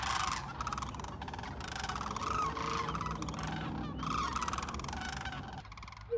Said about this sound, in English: Can't decide if they sound like the raptors from Jurassic World or just turkeys.